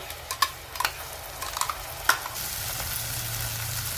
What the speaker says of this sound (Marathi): आता आपण टोमॅटोची पेस्ट टाकून घेऊ।